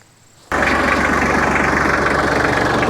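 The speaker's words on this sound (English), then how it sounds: "The tractor's warmed up, seatbelt on." A warmed-up farm tractor engine about to ted hay, running at a steady loud idle that starts abruptly after a brief quiet moment and continues with an even rumbling knock.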